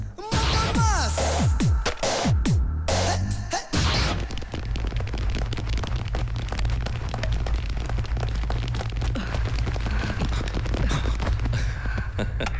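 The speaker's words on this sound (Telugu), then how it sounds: "అదే పక్కింట్లో గ్యాస్ సిలిండర్ పేలింది" A gas cylinder explodes in a film scene, a loud, close boom with crashing debris in the opening seconds, followed by a sustained low rumble and crackling aftermath.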